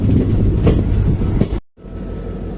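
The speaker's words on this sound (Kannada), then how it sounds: "ಟ್ರೈನಿಗೆ ಗುಬ್ಬಿ ಡಿಪಾರ್ಟ್ ಆತ." Passenger train 16240 (Yesvantpur to Chikkamagaluru) pulls out of Gubbi railway station with a loud, steady rumble of rolling carriages close by, briefly cut off near the end before resuming.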